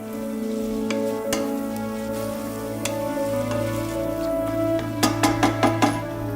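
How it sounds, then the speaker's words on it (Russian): Garlic and onion sizzle steadily in hot oil with a constant crackling hiss, joined by a few sharp clinks and scraping taps of a utensil near the end. "Чеснок долго не жарим. Достаточно его прогреть вместе с луком и маслом."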